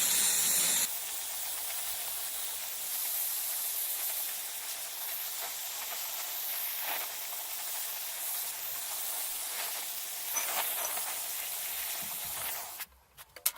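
A torch roars in a continuous steady hiss as it heats a pipe fitting on a towel radiator. The flame keeps a constant level before cutting off at the end with a few small clicks.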